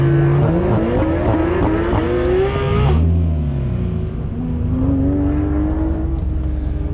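Autocross race cars at a ProSolo event, a Porsche GT3 and a BMW M3, rev loudly and continuously. Engine pitch climbs, drops sharply around a gear change, then rises again, close and sustained.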